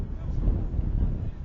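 Strong wind buffets the microphone on a very windy late evening at a high school baseball game, a loud low rumbling roar that surges and dips throughout.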